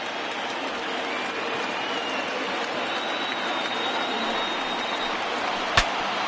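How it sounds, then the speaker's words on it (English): A small crowd in the baseball video game MLB The Show 20 rises and cheers, a steady distant wash of crowd noise and applause through the clip with one sharp knock near the end. "Now this small but vocal crowd come to their feet."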